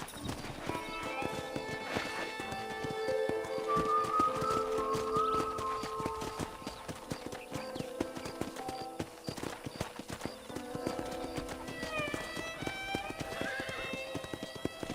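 Horse hooves in the video game Red Dead Redemption clop steadily at a brisk pace, with a whinny partway through, all under light background music.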